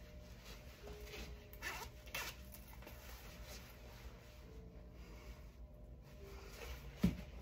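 A double-slider zipper drawn open on an athleisure jacket, a soft continuous rasp running through the clip, with a sharper snag near the end.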